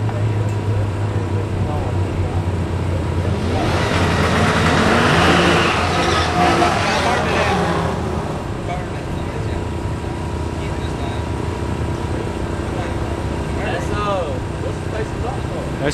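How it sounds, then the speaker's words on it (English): An LS1 Chevrolet Camaro drag races, its engine roaring up loudly around the middle before fading into the distance, while people talk nearby. "No, that's Jason's Camaro in Kent."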